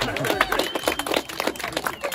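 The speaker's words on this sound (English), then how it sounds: "We're giving both a round of applause." Audience applause at a comedy-style tour show at the Mystery Spot in Santa Cruz, California: dense, steady clapping from a crowd, fairly loud and continuous, with some voices mixed in.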